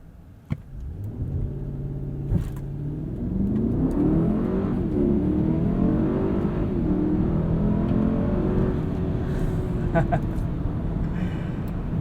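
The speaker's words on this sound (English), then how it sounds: "Let's put us into sport mode and see how we do with a 0 to 60." A 2021 Mercedes-Maybach GLS 600 SUV in sport mode accelerates hard from 0 to 60, its engine note rising smoothly in pitch through the gears over a steady road rumble, heard from inside the cabin.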